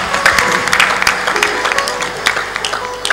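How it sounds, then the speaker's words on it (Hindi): A devotional gathering's audience breaks into loud, continuous clapping, a dense close patter of many hands that fills the whole moment, with a voice faintly heard beneath it. "आप लोग जोरदार ताली बजाकर उनका सम्मान करें"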